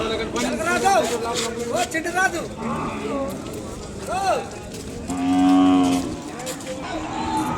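Ongole bulls and cattle at the crowded Kodada cattle market in Telangana low and moo in a few drawn-out, wavering calls, with one long, loud bellow near the end, while people talk nearby.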